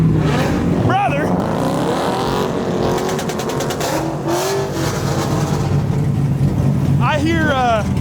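A modified Honda S2000 with a V8 engine swap revs loudly at a car meet, with rising and falling engine tones and sharp blips, while people talk and shout nearby.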